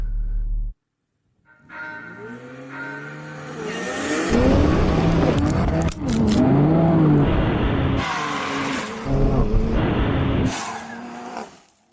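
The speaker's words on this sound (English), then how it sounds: "So let's make sure that we can get launch control engaged." A BMW X3 M and a Porsche Macan launching hard with launch control, engines revving up through rising gear pulls, loud and close, with a short pause between bursts.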